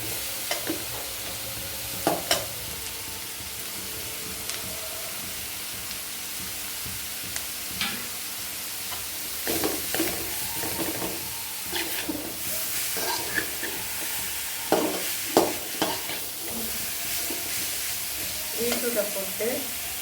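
Beetroot frying with onion and green chilli in a pan, a continuous close sizzle broken by frequent scraping stirs and occasional utensil knocks.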